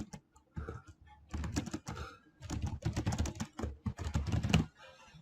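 Typing on a computer keyboard, rapid clustered key clicks in bursts separated by short pauses, close and moderately loud with no talking over it.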